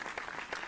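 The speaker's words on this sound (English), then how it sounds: "I can't hear enough applause" Applause from a crowd, a brief burst of continuous clapping at low level with no talk over it.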